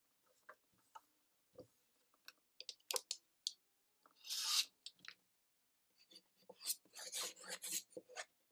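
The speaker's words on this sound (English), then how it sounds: "Extra burnishing won't hurt anything." A burnishing tool rubbed over a paper craft keepsake box lid, close and quiet, in short intermittent scraping strokes with small clicks between them.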